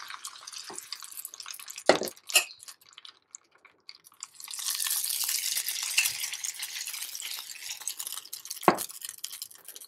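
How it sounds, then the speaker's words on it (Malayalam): A ladle of palappam batter poured into a hot appam pan, a burst of hissing sizzle after a few metallic clanks of the ladle, with sharp knocks before and after. "അതിലോട്ട് ഒരു തവി മാവ് ഒഴിക്കുക."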